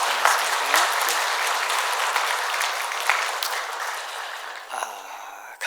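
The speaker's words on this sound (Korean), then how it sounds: "우리 박수로 격려하도록 하겠습니다" Congregation at a Korean church worship service applauding to welcome a visiting missionary, steady dense clapping filling the room for several seconds and thinning toward the end, with a few voices underneath.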